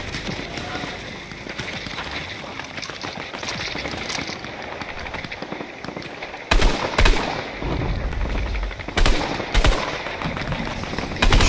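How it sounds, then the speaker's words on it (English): Gunfire in the battle royale game Fortnite crackles in rapid bursts and single shots. It grows louder and denser in the second half, over a constant busy game backdrop with a faint hint of voices. "Shots downrange, you know."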